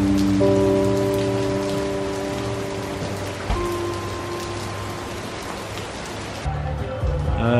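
Steady rain pours down on a surface with a dense, continuous hiss, loud and close throughout, with faint low tonal hum and a brief shift near the end.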